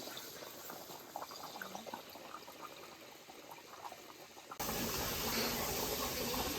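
Steady sizzling and bubbling of sofrito frying in a pot, with a continuous crackly hiss that grows louder and denser partway through.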